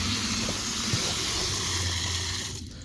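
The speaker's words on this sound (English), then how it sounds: "Alright, looks like it's flowing pretty well." Water flows steadily from a storage tote tank through pipes at an off-grid homestead, a loud, continuous gushing rush close by that tapers off near the end.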